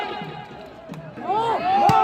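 Crowd of spectators at an outdoor volleyball final between Delhi and Indore, a general roar and shouts rising after a strong smash, with a sharp ball hit near the end, all beneath a commentator's excited voice.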